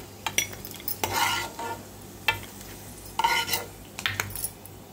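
Raisins and almonds fry in a pan for a Vinayaka Chavithi payasam, a soft sizzle under repeated close scraping and clinking strokes of a spoon stirring the dry fruits, with no talking.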